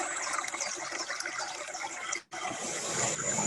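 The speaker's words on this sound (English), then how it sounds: "There's a water sound." Water gushes and pours in a steady, fairly quiet rush, cutting off abruptly for a moment near the end before resuming.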